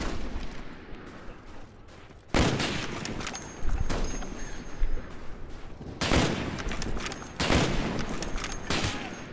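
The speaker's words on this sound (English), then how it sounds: "Whoever I was shooting at." Gunfire in the Call of Duty Black Ops video game, with several loud bursts of shots at irregular intervals over a steady background of battle noise.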